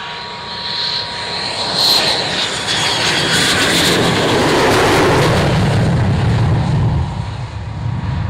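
An airplane takes off with a loud, sustained engine roar that builds and stays steady and close, with a broad rumble and a whining high tone. No speech.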